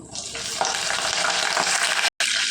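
Curry leaves hit hot oil with fried dried red chillies in a tempering, a loud dense sizzle and spatter with stirring, cut briefly by a short silent gap near the end.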